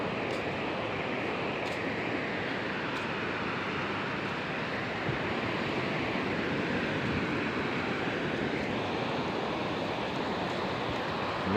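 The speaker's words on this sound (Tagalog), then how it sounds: "Malalakas ang alon." Continuous roaring surf of strong ocean waves at Bagasbas, Daet, loud and broadband, with heavy wind buffeting the microphone and no clear pauses between breaking waves.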